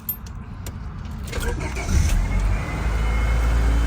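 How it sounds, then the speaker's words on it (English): A Honda Civic engine cranks and catches, its low rumble building and settling into a steady idle near the car, with brief key and handling clatter at the start. "we're going to go ahead and start the car"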